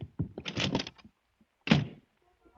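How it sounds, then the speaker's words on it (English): A door slams shut in a radio drama: a quick flurry of knocks and rattles, then one sharp, loud thunk of the door closing, followed by quiet. "With a slam of the door, Miss Loring was gone"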